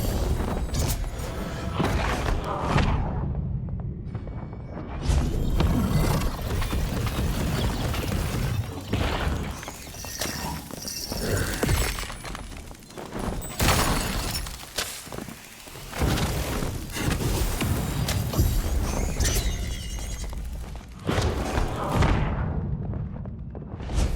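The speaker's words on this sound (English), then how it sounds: "Good fireball into a good ice bolt." Booming spell impacts in Dark and Darker, a fireball followed by an ice bolt, heavy thuds and crashing bursts recurring loudly among other game noise.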